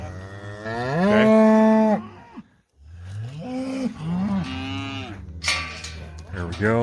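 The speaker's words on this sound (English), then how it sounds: "I think he's only got a couple more cows in there with a whole bunch of calves" Cows and calves being sorted on a ranch before shipping call out in loud, drawn-out moos, one long bellow followed by a short gap and then a run of overlapping calls close by.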